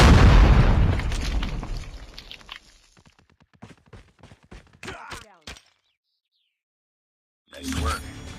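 A big bomb explosion in a round-based objective shooter game booms loudly and rolls off into a long decaying rumble, followed by scattered footsteps and clicks, then a burst of game noise.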